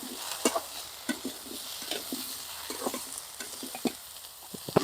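Bitter gourd frying with salt and turmeric: a steady, close sizzle with scattered scraping and tapping from stirring throughout, no voices.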